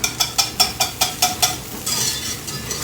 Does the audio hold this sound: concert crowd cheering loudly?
no